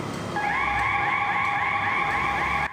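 An electronic warning alarm wails continuously at a motorcycle road test course, a steady two-tone rising-and-falling siren lasting a few seconds before cutting off abruptly.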